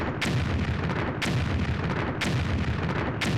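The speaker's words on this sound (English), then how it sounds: "now you can see the random explosions" Random explosions in the Disney Infinity 3.0 video game, set at the Sarlacc Pit battle as a sail barge is destroyed: loud, booming blasts at roughly one-second intervals over a constant rumbling din, with no voices.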